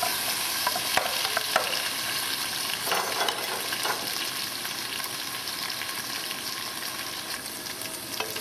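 Roughly cut onion browns in a pan for beef bourguignon, giving a steady, close sizzle that runs unbroken throughout, with a few brief stirring scrapes near the start.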